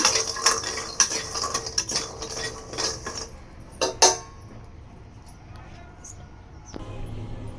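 Bori, small dried lentil dumplings, dry-roasting in a bare pan: clattering clinks and scraping of a utensil against metal come in bursts for about four seconds, then settle into quiet, faint rustling.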